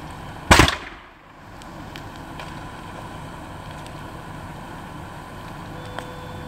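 A burning truck on an Idaho Falls street gives off one sharp, loud explosive bang, then a steady outdoor rumble with a few faint pops and crackles.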